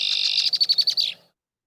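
Red-winged blackbirds duet in a marsh: a steady buzzy trill gives way to a quick series of about seven rhythmic chirps, close and clear, then silence.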